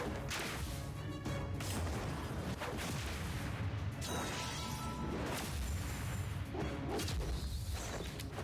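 Aquatic weapon attacks in the DC Legends video game, a continuous loud barrage of crashing impacts, whooshing swipes and booming hits layered over game music, with no speech.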